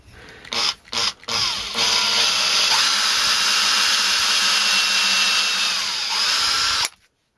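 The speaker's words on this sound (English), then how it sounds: "I'm going to go all the way to the end of the drill bit, the curly bit, whatever it's called." A power drill bores into a leg of a Warlord Titan model base to seat a screw. After a few short stuttering starts, it settles into a loud, steady, close-up whine that runs unbroken for about five seconds before cutting off, with no talking.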